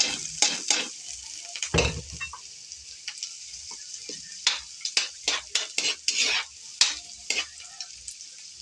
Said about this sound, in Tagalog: Lagyan na natin yung bawang sibuyas sili.